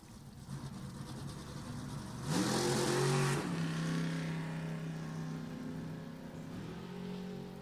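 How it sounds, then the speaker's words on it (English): Engine of a 2008 Worthy Super Gas roadster at a drag race, held on the throttle stop at launch, a loud steady drone that briefly swells higher before settling into a sustained tone. "Heard that throttle stop there for the first, I don't know, 100 feet or so"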